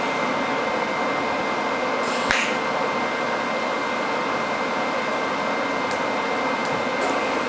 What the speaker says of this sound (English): I'm trying to weld